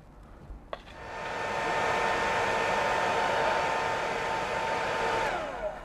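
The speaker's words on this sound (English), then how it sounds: "Okay, and it's hairdryer time again." A hair dryer blows steadily on wet pigments on an architectural diorama model, switching on with a click and running loud and constant for several seconds before cutting off near the end.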